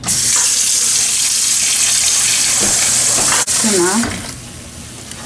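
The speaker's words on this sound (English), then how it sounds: "So I put some vinegar, then I put some water in." Water runs steadily from a tap into a bowl with vinegar for several seconds, a continuous splashing rush that tapers off near the end.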